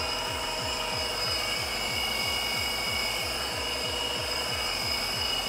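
Metal lathe spinning at 630 RPM on a shop-built steady rest, a steady loud machine whir with a rapid regular thumping pulse throughout.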